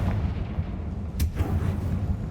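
A Confringo fire spell blasts in Hogwarts Legacy, a single sharp burst over a steady rumbling game backdrop, then fading into the ongoing low ambience.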